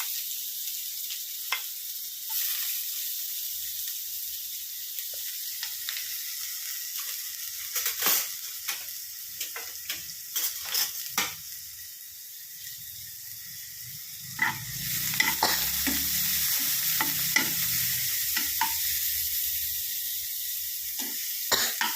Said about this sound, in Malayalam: ഉള്ളിയും പച്ചമുളകും എല്ലാം കൂടെ നമുക്ക് വഴറ്റാൻ വഴറ്റിയെടുക്കാം